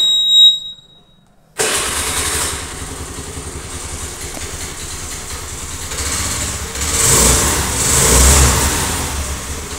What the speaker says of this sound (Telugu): ఇప్పుడు ఇంజిన్ అయితే స్టార్ట్ చేస్తాను